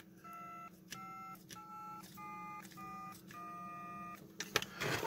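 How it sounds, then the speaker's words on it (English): A Codaphone touch-tone coder plays standard DTMF beeps: a rhythmic series of about seven crisp dual-tone beeps, each held briefly with short gaps, heard near and clear over a faint steady hum, with a clatter at the end. "Standard DTMF tones"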